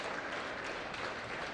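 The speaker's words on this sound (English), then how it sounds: "good to hear all the applause" Faint, distant applause from spectators at a schools' national football final, a low continuous wash of clapping with no voices over it.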